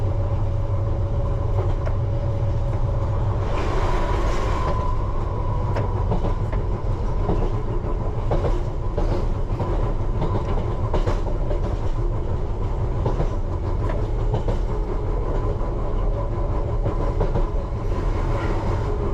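A London Underground Piccadilly Line train runs on rails with a continuous rumbling roar and rhythmic clickety-clack over the joints, close and steady throughout.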